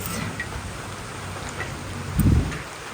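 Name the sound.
rain falling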